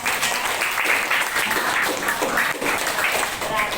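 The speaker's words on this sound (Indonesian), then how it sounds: "tepuk tangan untuk Zaki" A classroom audience claps for a student, a lively burst of overlapping hand claps that rises and dips unevenly, with voices talking through it.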